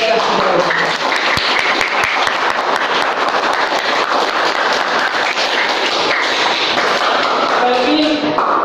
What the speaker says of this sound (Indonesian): Kalau kita tepuk tangan untuk